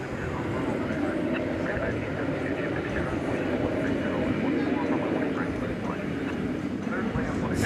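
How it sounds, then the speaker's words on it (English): An American Airlines Airbus A321 arriving at DFW airport from San Diego, heard as a steady, continuous jet roar with broad rumble that holds at an even level throughout. "Airbus A321, American Airlines Flight 2036, arriving from San Diego, California"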